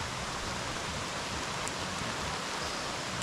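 Rain falls steadily on a wet evening campsite in Hancock, New York, making a soft even hiss with no voices.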